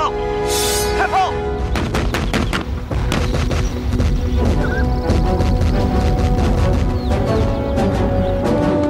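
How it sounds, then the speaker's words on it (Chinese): Cannon fire in a Chinese historical drama battle scene: a rapid run of loud, sharp booms and blasts repeating densely throughout, over a constant roaring din of battle. "开炮。"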